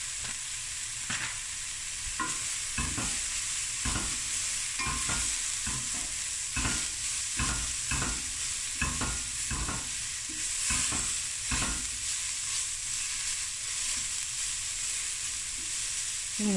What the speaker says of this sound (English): I'm going to give this a quick sizzle and fry.